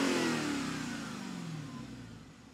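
A Dodge Challenger SRT Demon 170's supercharged engine comes off a loud rev, its pitch sliding steadily downward as the roar fades toward a lower idle, close up with no talking.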